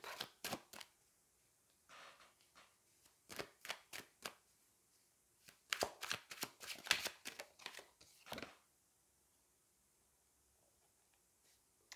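Tarot cards are shuffled and drawn in a quiet room, giving a run of short, crisp flicks and riffles that come in bursts with short pauses between them.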